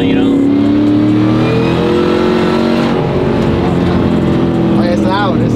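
A loud 800-horsepower LT4 V8 in a swapped 1994 Chevy truck revs hard on a cold day, its deep, throaty roar rising and holding steadily close by, with people talking over it.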